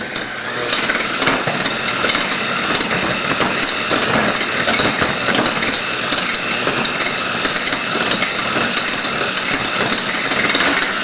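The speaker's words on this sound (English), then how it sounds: "I'm gonna go with a coarse beater on here because the batter is a little bit on the thick side." An electric mixer fitted with a coarse beater churns thick cookie batter for whoopie pies, a loud, continuous rattling whir that runs unbroken throughout with no talk.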